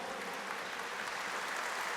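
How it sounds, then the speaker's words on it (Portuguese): A church congregation claps in a steady, continuous round of applause, fairly even in loudness and heard from a distance throughout. "dá uma salva de palmas."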